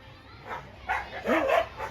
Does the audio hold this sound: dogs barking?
yes